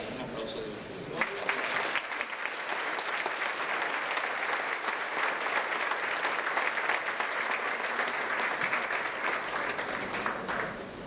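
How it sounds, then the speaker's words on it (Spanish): Sustained audience applause fills a church during a sermon, starting abruptly after a second and continuing loud and dense to the end. "Un aplauso de Dios."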